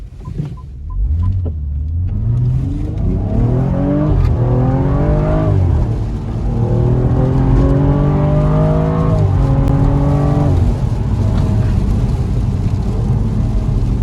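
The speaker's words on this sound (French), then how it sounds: "ça pousse très très fort, franchement. Le 6 cylindres en ligne" A BMW 135i F20 with its inline-six engine, stage 1 tune and sport air filter, accelerates hard, loud and close, its rising engine note climbing through several gear changes before settling into a sustained roar.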